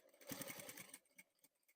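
A sewing machine stitches a pocket welt in a short, quiet run of rapid needle clatter that slows and stops with a few final ticks.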